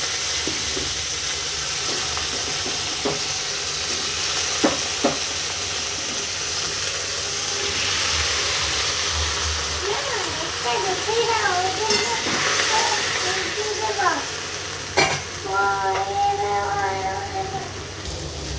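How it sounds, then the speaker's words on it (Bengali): Okra and potatoes frying together in hot oil in a pan, a continuous close sizzle with occasional stirring clatter and some faint chirping sounds in the background. "আমি দুটো একসাথে ভেজে নিচ্ছি"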